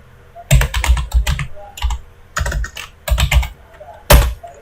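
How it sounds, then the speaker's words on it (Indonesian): Bursts of keyboard typing on a computer while entering text in an Excel spreadsheet, close and clear, coming in quick clusters of keystrokes separated by short pauses. "tinggal kita ketik apa yang ingin kita ketik"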